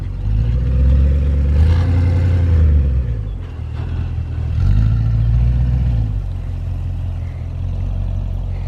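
Audi RS7 engine revving nearby in two loud swells that rise and fall, a deep throaty roar with a quieter idle between and after them.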